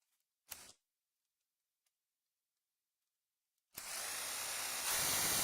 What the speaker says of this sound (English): It's just the little fuel brushless M12. It's the impact though. It's not the drill.